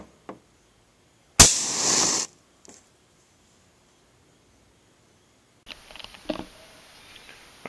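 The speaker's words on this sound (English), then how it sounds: "So I'm going to pop these and show you guys that it'll pop 10 electric matches." Ten electric matches ignite at once from a homemade 72-volt firing system, a sharp pop followed by a roughly one-second hissing fizz, then quiet, and later a scatter of crackles and small bangs.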